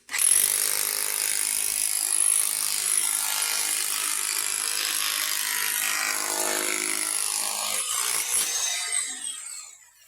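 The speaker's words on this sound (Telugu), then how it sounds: "చూడండి రాయి కూడా దోల్చేస్తుంది." A machine cuts through stone with a loud, harsh, continuous grinding whine that holds steady for about ten seconds before tapering off at the end. No one speaks.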